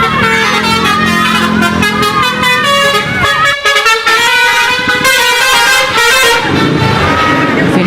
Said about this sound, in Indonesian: Fenomena klakson telolet dari bis akap dan bis pariwisata kembali marak.